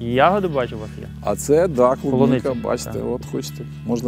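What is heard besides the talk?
No everyday noise stands out behind the speech.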